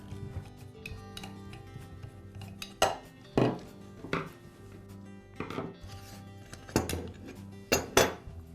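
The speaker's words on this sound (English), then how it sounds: "I'll begin by removing the side handle and the guard." Makita angle grinder having its side handle and guard taken off, heard as a series of sharp metallic clinks and clunks of parts and tools being set down on a workbench, with no talking.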